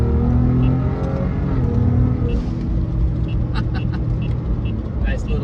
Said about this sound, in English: what makes that lovely exhaust note on the Raptor, as you saw, I have an SPD trombone installed